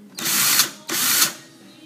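DeWalt DW995 cordless drill running after a trigger replacement, two bursts of high whirring motor spin of roughly half a second each, close and loud, with a brief pause between them.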